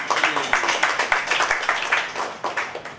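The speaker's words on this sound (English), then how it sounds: "give yourselves a round of applause" Rhythmic clapping from a small cooking-class audience applauding themselves, distinct claps in a steady pulse, fairly close and without speech.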